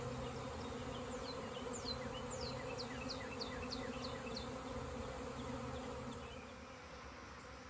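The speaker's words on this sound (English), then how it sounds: "This is definitely the primary swarm out of the hive." A primary swarm of honey bees leaving a hive fills the air near the beehives with a steady, soft, droning buzz, and individual bees whine past now and then.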